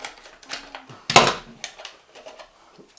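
Scissors snipping a plastic cup for seed starting, a handful of short crisp clicks and cuts, one sharper snap in the middle, close and fairly quiet.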